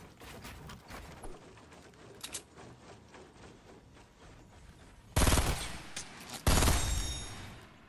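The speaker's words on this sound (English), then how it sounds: "Oh my god, people love shooting me from the back." Gunfire in the Fortnite video game: two loud, dense bursts of shots near the end, preceded by lighter scattered game sounds and faint distant pops.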